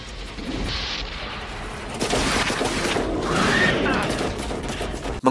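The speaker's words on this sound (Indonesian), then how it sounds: "suara ledakan yang dihasilkan membuat getaran yang cukup hebat" A heavy blast from an improvised explosive erupts into sustained crackling, rumbling noise that keeps roaring for several seconds, loud and close.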